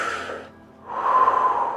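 Two slow breaths, one drawn in through the mouth and then a fuller, louder exhale, close and unaccompanied, with a brief quiet pause between them.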